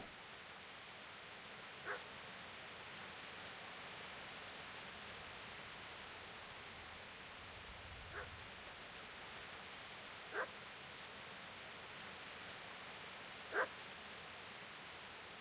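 A dog in the medieval video game Kingdom Come: Deliverance barks faintly and far off, four short isolated barks spread over a quiet, hissy ambient background with no talking.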